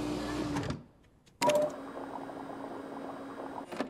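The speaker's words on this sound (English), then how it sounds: "Pour the contents of the medium vial into the smallest vial" Liquid transferred from one vial into a smaller vial in Resident Evil 2 Remake, a short clunk then a continuous bubbling pour lasting a few seconds, ending with another brief knock.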